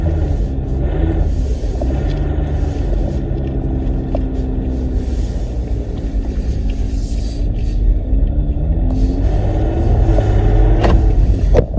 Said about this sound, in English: you definitely have that nice crisp diesel growl